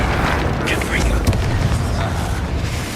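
The Confringo spell in Hogwarts Legacy lands as a dense rumbling blast, a loud low boom with crackling debris sustained for a few seconds, while a voice shouts over it.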